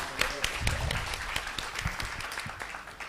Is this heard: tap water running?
no